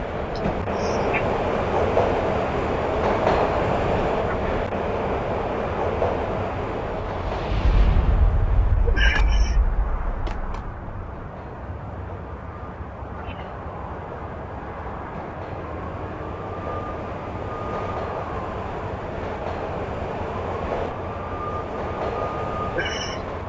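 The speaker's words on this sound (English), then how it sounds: "When the train he was riding slowed down, Gognitti made his move." A train in the Max Payne mobile video game rumbles and clatters as it slows down, with a loud low-frequency surge and metallic squeals midway, while a voice narrates over the steady rail noise.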